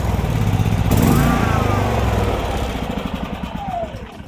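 A Predator 5000 portable generator runs low on fuel, its engine sputtering with an uneven, pulsing drone that stays steady and fairly loud throughout, close by.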